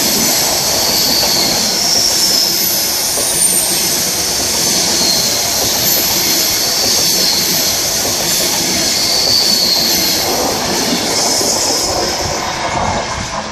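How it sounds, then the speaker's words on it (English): A Virgin Trains Pendolino passes through the station at Cheadle Hulme with a steady, loud rushing roar. Its wheels squeal high on the rails and the train clatters past close by for the whole stretch. No one speaks. "And now pass through with a Virgin Trains Pendolino."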